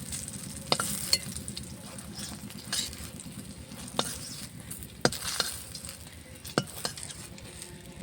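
Eggplant slices fry in hot oil in a pan, giving a steady, soft sizzle. A utensil stirs or scrapes now and then, with sharp clinks against the pan, close by and without talk.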